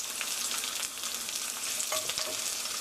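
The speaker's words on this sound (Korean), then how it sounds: "한쪽으로 팬을 기울이셔서 이렇게 마늘을 튀기듯이 해주세요." Garlic frying in olive oil pooled at one side of a tilted pan for spaghetti aglio e olio, a steady, close, bright sizzle with faint crackles throughout.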